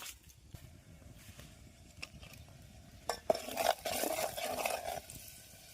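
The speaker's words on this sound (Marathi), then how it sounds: "आपण आता जे मसाले मिक्स केलेत त्याला ते आता गरम करून घेऊया व्यवस्थित" Mixed spices heated and stirred in a pan over a wood-fired hearth by a riverside in Konkan, faint scraping and a soft sizzle that grows louder in the second half, no talking.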